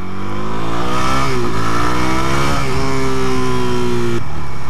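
A Suzuki DRZ400 motorcycle engine revs hard nearby, loud and continuous, its pitch climbing, dipping briefly and rising again before dropping off near the end, with no talk.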